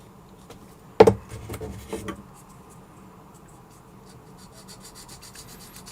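Foam-backed sanding sticks rub against a small model part, giving a sharp scrape followed by a few quieter rasping strokes that fade into faint background noise.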